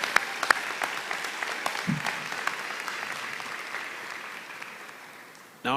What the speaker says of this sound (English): Now, let's clap again.